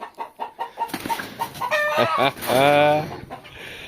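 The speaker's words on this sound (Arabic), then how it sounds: "عندنا هنا البقية، هذا الديك مرقيبة" Chickens and a rooster on a Kuwaiti farm with Dandarawi and other breeds, a series of close clucks and short calls building into a loud rooster crow, with a few faint voices in the background.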